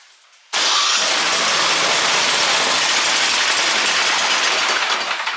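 A snow blower's small engine fires abruptly after a carburetor swap and runs at a loud, steady, rattly idle up close. The idle is a little slow, and no one speaks.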